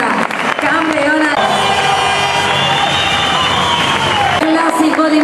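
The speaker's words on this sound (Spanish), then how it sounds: "le damos un aplauso más fuerte a nuestra campeona." An audience at a bodybuilding championship in Tenerife applauds and cheers loudly and steadily for a female champion, with whoops rising above the crowd. An announcer talks over the applause at the start and end.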